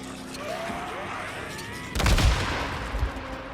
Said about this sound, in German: Nochmal eine Splittergranate.